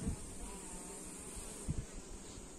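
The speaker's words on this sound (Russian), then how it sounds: "Смотрите, пчелы сидят, выкучились." A swarm of honey bees clustered at a bait trap in a forest gives a steady, dense buzzing hum throughout, broken by a couple of brief low thumps near the end. No one speaks.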